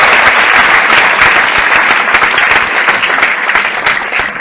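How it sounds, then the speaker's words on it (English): Loud, close applause from the audience at an IHE Delft academic year opening and alumni award ceremony, continuous and dense throughout with no break. "Give them a big applause so that they can hear."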